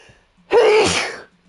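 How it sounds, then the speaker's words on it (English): A single loud, explosive human sneeze bursts out close by, preceded by a brief quiet intake and fading quickly afterward. "Oh, I need to sneeze."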